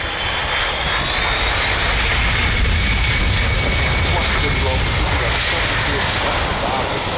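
A USAF C-17 transport jet roars loud and close during a very short landing at the Gilze-Rijen air show, its engines in reverse thrust producing a dense, steady rumble and whine throughout.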